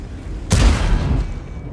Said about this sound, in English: The shell found its target.